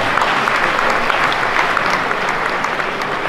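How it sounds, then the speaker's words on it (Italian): Dense, steady applause from an audience fills an outdoor folk and tavern choir festival in Bobbio, a continuous loud wash of many hands clapping for a choir, with no pauses. "Bel applauso, lo merita."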